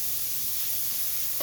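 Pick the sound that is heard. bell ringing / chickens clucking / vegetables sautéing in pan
vegetables sautéing in pan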